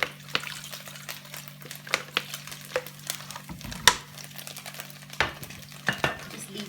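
Onion fried in olive oil crackles softly in a pan as grape vinegar goes in, with irregular sharp ticks and spoon scrapes over a low, steady sizzle, close and fairly quiet, no voices.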